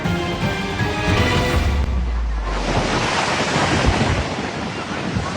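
Large ocean waves crash and surge on the shore at Aparri, Cagayan, a loud continuous roar of surf with heavy wind buffeting the microphone.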